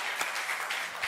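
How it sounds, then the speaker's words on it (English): A church congregation breaks into applause during a baptism celebration at a Sunday service: a dense, steady wash of many hands clapping together, fairly even throughout with no voices standing out. "I'm going to ask you to clap one more time"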